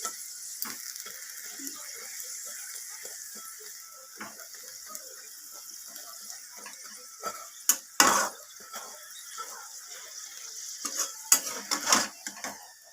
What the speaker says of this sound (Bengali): দেখুন এই পরোটাটাকেও আমি ভেজে নিচ্ছি।